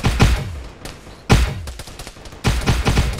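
Small arms gunfire in a video game, heard as three loud rattling volleys of several quick shots each, separated by brief gaps with fainter scattered pops and a soft echoing decay.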